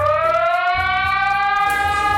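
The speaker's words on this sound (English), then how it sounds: "that was me rating EAS alarms" An emergency alert system alarm siren, a loud continuous harmonic tone that rises slowly in pitch and holds, with a low pulsing undertone beneath it and no voices.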